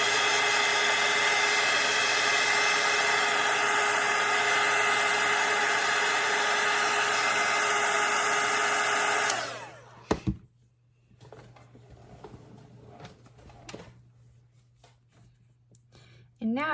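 A hair dryer blows steadily and loudly on a watercolor painting of a fall floral wreath for about nine seconds, then switches off, leaving quiet handling noises.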